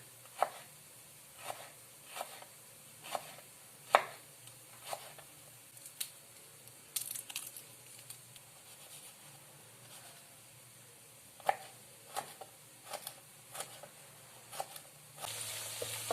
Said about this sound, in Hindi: ये देखिए, लहसुन को भी आपने इसी तरह कट लगा लेने हैं दो, और फिर इस तरह काट लेना बारीक।